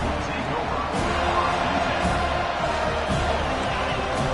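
Dense, roaring stadium crowd at an Oregon Ducks college football game, cheering loudly and steadily throughout, with a broadband wash of voices and occasional thumps under it.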